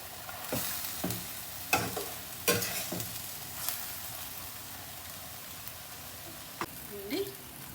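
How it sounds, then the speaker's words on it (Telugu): Broccoli with moong dal and curry leaves fries in a pan under a steady sizzle, with several sharp scraping stirs of a spatula standing out nearby. "సో ఇప్పుడు నేను ఇంకొంచెం ఫ్రై చేస్తాను"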